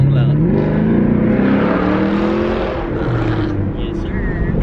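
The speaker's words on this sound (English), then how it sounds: "We're in Alex's car right now, the SS" A Chevrolet SS car engine revs loudly from inside the cabin, a sustained rising and falling roar with voices talking over it throughout.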